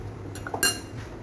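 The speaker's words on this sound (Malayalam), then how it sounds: "ഇനി ഒരു പാൻ അടുപ്പിൽ വെച്ച് അതിലേക്ക് എണ്ണ ഒഴിച്ചു കൊടുക്കണം" A metal pan is set down on a kitchen stove with a single sharp clink, after a few faint knocks; no pour of oil stands out.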